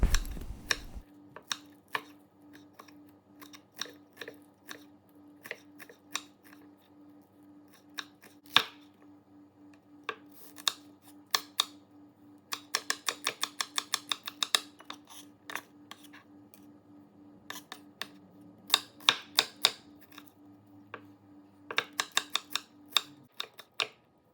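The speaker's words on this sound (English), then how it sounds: "Let's chop these into tiny pieces and chop some onions and chilies also." A knife chops banana flower, onions and chilies on a board in quick, crisp strokes, with bursts of rapid chopping broken by pauses, close and clear over a faint steady hum.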